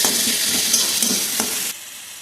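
Tomato paste mixture stirred in a hot pan, a loud, close, continuous sizzle with scraping strokes, dropping to a quieter hiss near the end; no voices.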